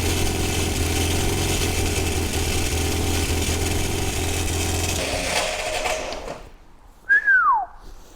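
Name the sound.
Triumph Dolomite engine running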